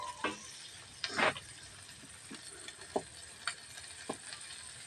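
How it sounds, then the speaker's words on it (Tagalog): Ham cooks in a pan with a quiet steady sizzle, broken by a few clinks and scrapes of stirring, soft and close with no talk. "Lutuin muna natin ng konti ang ating ham."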